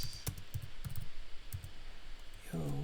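Keys tapped on a keyboard while typing a chat message make a few scattered, close clicks with gaps between them, and a short unrelated tonal sound comes in at the end.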